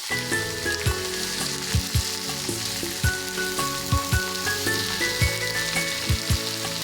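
Potatoes fry in hot oil in a pan for a koi fish curry with cauliflower, giving a constant bright sizzle and crackle with regular low knocks from stirring.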